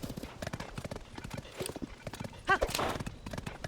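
Horse galloping in Zelda: Tears of the Kingdom, with rapid rhythmic clip-clop hoofbeats and a brief whinny, heard under someone talking.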